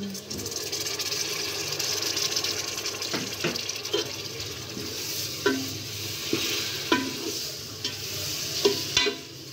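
Tomatoes frying with spices in a pan for a dhaba-style chana dal, a steady sizzle with repeated spoon scrapes and stirring knocks close by, mostly without talk.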